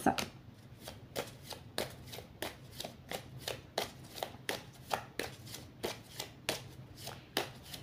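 A Rebecca Campbell oracle card deck is shuffled by hand, making a quick, regular series of soft riffling slaps, about two per second, faint and close with no talking.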